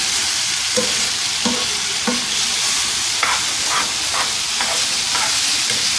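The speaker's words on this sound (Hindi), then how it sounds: "ऐसे थोड़ा थोड़ा करके हम स्पैगेटी डालते जाएंगे और इसको मिक्स करते जाएंगे।" Cooked spaghetti stirred into a chicken and vegetable mixture in a pan, steady sizzling with repeated scraping, tossing strokes of the utensil, close up and without talk.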